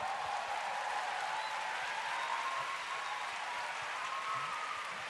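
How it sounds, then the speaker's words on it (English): Sustained applause from an audience honouring award winners at a ceremony, a dense, even wash of hand claps lasting several seconds with no voices on top. "can we give all the winners a big hand clap?"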